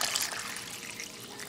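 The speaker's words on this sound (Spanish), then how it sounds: "Vamos a poner agua." Water poured into a blender jar while making chamoyadas gives a steady, close trickling splash for over a second, with no talking.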